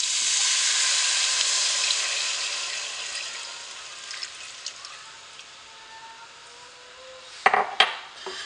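A cold half-and-half cream mixture is poured into a hot sauté pan of sweated vegetables, giving a bright hissing sizzle that slowly fades, followed near the end by a few sharp clanks of a utensil against the pan.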